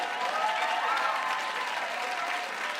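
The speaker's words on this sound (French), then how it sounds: "un public comme vous, à soir, qui est en feu, qui nous donne des applaudissements nourris" A comedy show audience gives sustained applause, a dense, even wash of clapping at moderate level with a faint murmur of the crowd beneath it.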